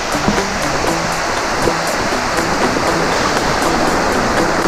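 A waterfall beside a Lake Tahoe running trail pours in a steady, loud, broadband rush, with no voices over it.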